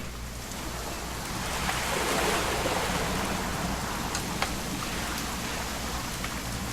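Steady rain in What Remains of Edith Finch, a dense continuous hiss of falling water that swells slightly midway, with no voices.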